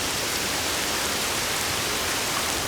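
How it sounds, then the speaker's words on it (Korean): Steady rain falls around a traditional Korean hanok and drips from the eave edges, a dense even hiss that holds at the same close level throughout, with no talk. "툇마루에 앉아 처마 끝에서 떨어지는 빗소리를 들으면 꽤나 운치가 있죠."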